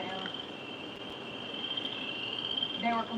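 Frogs chorus loudly in night woods, a thick, continuous wall of shrill trilling with a high sustained tone over the top and a few closer calls at the end.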